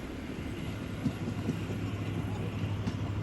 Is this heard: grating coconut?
no